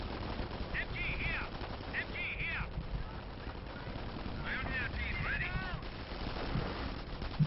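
Machine gun fire in the real-time strategy video game Company of Heroes, rapid rattling bursts under a battle soundscape with distant explosions, alongside a player speaking over the action.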